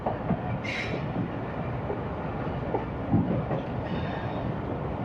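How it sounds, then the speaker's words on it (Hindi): The Khushhal Khan Khattak Express rolling along the ML2 line in Pakistan, a reopened track disused for six years, with a continuous close rumble of wheels on rails and a brief high squeal. "छः सालों से वीरान रेलवे ट्रैक पर एक बार फिर ट्रेन के पहिए चलने लगे।"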